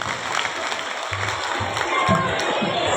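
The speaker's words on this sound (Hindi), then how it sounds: "एक बार जोरदार तालियां शांतिलाल जी के लिए।" A crowd at an outdoor religious devotional evening for Khimat Mata bursts into loud, sustained clapping and cheering, a dense wash of hand claps with scattered shouts and some voices mixed in.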